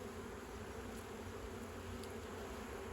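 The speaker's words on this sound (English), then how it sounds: "I'm really surprised how calm the bees are right now." Honey bees buzzing around an open hive, a dense continuous hum close by with a few individual bees passing near, steady and unbroken with no talking.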